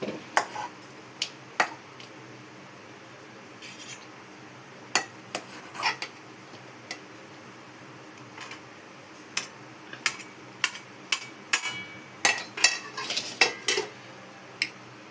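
Utensils and dishes clink and clatter as food is packed into a lunch box in a home kitchen, with irregular close metallic taps and knocks that become more frequent toward the end, and no talking.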